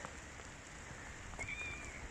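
Rain falls steadily in a forest, a soft continuous patter of drops on leaves and ground, faint and even throughout with no voices.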